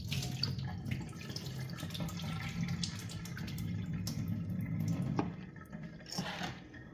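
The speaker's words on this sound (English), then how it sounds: "Let's pour the water away." Water from warm-water egg soaking poured away into a kitchen sink, a steady splashing rush running throughout with a brief louder gush near the end, close and without talk.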